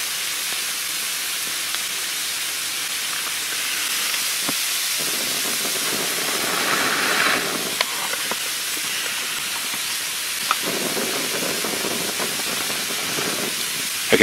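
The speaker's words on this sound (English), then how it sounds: "I can actually hear it sizzling out, like it's boiling out." Steady hiss of steam and sizzling as moisture boils out of damp logs in a nearby fire, continuous and fairly loud, with occasional faint pops and crackles.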